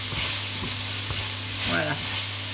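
Vegetables frying in a pan while being stirred, a dense steady sizzle under brief scraping strokes, with a low constant hum in the background.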